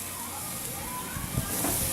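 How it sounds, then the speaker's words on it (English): Meat sizzles on a hot grill, set to the side of the direct heat, as a steady fizzing hiss at moderate level with a few louder crackles near the end. "You hear that sizzle?"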